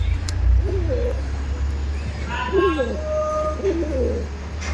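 A Kalasaus Giribaj high-flying pigeon in a loft with other pairs, cooing in several warbling, rising-and-falling calls close by over a steady low hum, with a person speaking briefly.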